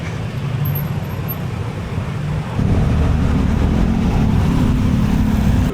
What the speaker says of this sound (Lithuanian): Kiek motociklų daug.